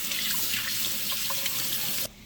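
Kitchen tap running steadily while hands are washed under it, a close, continuous splashing hiss that cuts off abruptly at the end.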